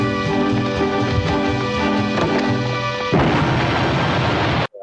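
Bomb explosion sound effect, a sustained loud roaring blast with rumbling debris that shifts into a harsher crackling burst before cutting off abruptly.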